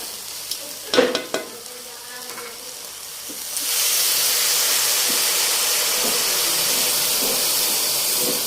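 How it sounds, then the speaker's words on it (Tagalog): Water poured into a hot pan while cooking cream sopas with crab fat: a few clanks and taps, then a loud steady sizzling hiss that rises and holds to the end. "at atin itong lalagyan ng tubig"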